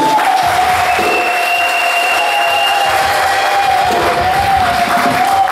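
A congregation at an Easter Sunday service at EAGT John's Corner church in Mafinga breaks into loud, steady clapping and cheering, with a long, high held vocal cry ringing above the crowd.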